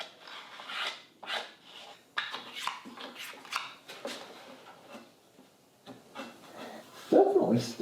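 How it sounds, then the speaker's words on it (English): Excess powder being cleaned out of a part, heard as a run of short scraping and brushing strokes in irregular bursts, close by, ending with a louder, fuller scrape. "Let's start by just cleaning all the excess powder out of here"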